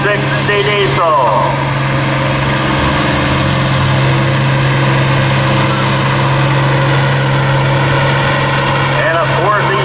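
Factory-turbocharged International Harvester 560 diesel tractor pulling in an 8000 lb farm stock class at a tractor pull, a loud, steady low engine drone held throughout with a crowd and announcer talking over it.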